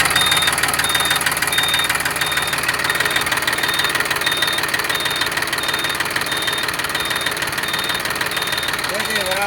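A three-cylinder car engine from a 2017 model year idles steadily, with a dense, even rumble and a faint ticking that runs constantly throughout.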